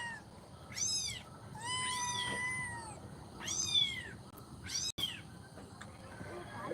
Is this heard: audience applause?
no